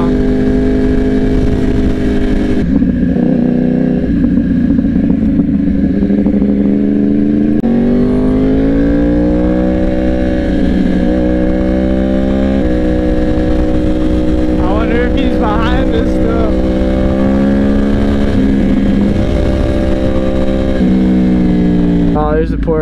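A motorcycle rides at a steady pace with a loud, constant engine drone whose pitch rises and falls through gear changes, wind noise running underneath and a rider talking over it.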